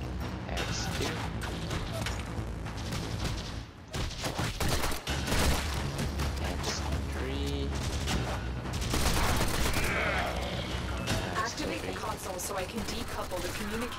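Rapid gunfire from the video game Warframe plays continuously with crashes and game effects layered over a dense backdrop of music and sound effects, loud and steady throughout.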